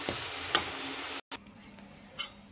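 Tempering frying in a pan for lemon rice, a soft continuous sizzle with a few faint stirring clicks, stopping abruptly, then quieter residual sizzling.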